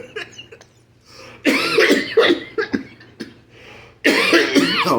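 Several harsh coughs in bursts, loud and close, with a short pause between fits and a final cluster near the end.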